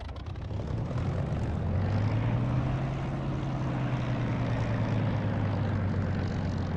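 Simulated propeller aircraft engine in DCS flight sim spooling up for takeoff from a taxiway, a steady droning hum rising in pitch and loudness over a broadband rush, continuous and without talk.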